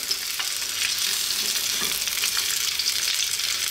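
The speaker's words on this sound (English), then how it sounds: "We're going to simply start off by dropping in our onions." Onions hitting hot sunflower oil in a wok, a loud steady frying sizzle close up that holds evenly throughout.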